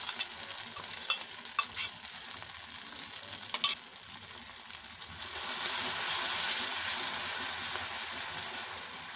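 A cashew-onion paste is stirred through hot oil with ground cumin, a soft frying hiss under scraping spoon strokes and light clinks that thickens into a fuller, steadier sizzle partway through, with no voices.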